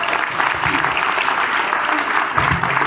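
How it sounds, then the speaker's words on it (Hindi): Audience applause following a motivational speech at a DXN event, a dense sustained clapping crowd filling the whole stretch, steady and fairly loud with no pause. "सब लोग खड़े होके उनको जोरदार तालियों से"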